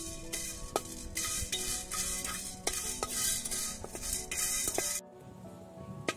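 Black peppercorns and fenugreek seeds dry-frying in a pan for Mangalorean chicken pulimunchi, a steady broadband rustle with repeated sharp clicks and clinks of a spoon stirring against the metal, close and continuous, then abruptly dropping to near silence near the end.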